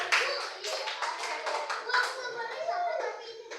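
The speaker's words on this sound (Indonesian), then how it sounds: "Kasih tepuk tangan buat Jen." Children in a classroom clap for a classmate, a burst of quick uneven hand claps close by, mixed with children's chatter and voices throughout.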